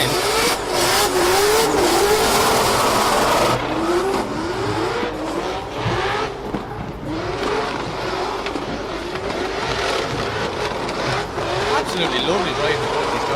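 Drift cars in a racing video game competition rev and whine continuously, with engine pitch rising and falling through slides, while a commentator talks over the action.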